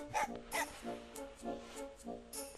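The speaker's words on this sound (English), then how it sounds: "Then again, this dog is just a bit of an a-hole." A dog in the video game Mega Man Legends barks repeatedly, a quick run of sharp yappy barks and yips at an even rhythm, fairly quiet and without talk.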